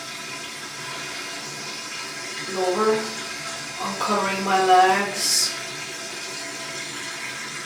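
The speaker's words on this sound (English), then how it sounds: "I'm draining the bath." Bathwater drains from a tub with a steady low rush, while a person speaks briefly partway through.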